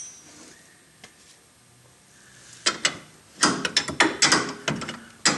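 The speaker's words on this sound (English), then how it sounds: "Now all that's left is to simply tighten up the lower ball joint." A ratchet tightens the lower ball joint nut on a Mitsubishi Eclipse, first quiet, then a rapid series of loud, close metallic clicks in bursts.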